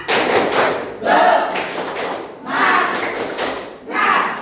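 A group of Indonesian teacher-training participants performs the rhythmic 'tepuk semangat' clap, loud and close, in short patterned bursts with shouted chant-like voices mixed in.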